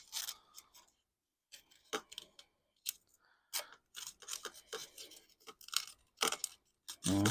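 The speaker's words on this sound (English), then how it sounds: "I just like using a little drill like that." Short bursts of a small hand drill grinding and scraping burrs from metal while fitting roller pulls, starting and stopping irregularly with quiet gaps between.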